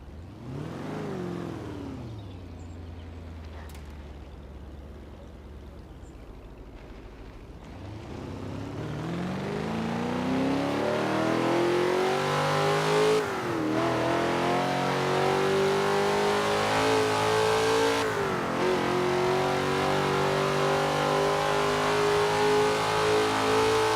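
A supercharged car engine in Forza Horizon 4 revs up from a low rumble into a loud, sustained high-pitched whine, rising in pitch with brief dips like gear shifts.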